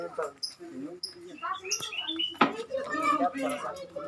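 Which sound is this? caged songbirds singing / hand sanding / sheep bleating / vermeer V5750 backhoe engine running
caged songbirds singing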